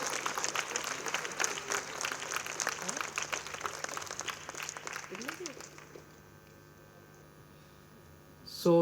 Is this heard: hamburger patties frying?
no